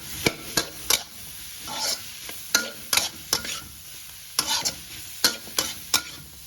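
Half-boiled vegetables are stirred in a frying pan over a steady sizzle, with a spoon scraping in irregular close strokes and occasional sharp clinks against the metal.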